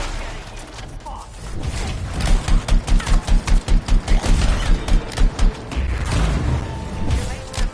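Battle gunfire in the video game Anthem: a dense run of rapid, punchy shots and thumping impacts, with booms and mechanical clatter, loud and building in the middle before easing to a rumbling background.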